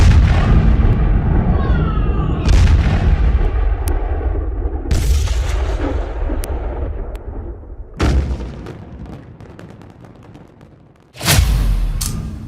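Several heavy, sharp blasts in succession from a building demolition using about 3,700 kg of explosives, each a loud broadband burst, followed by rumbling debris and a final big boom near the end.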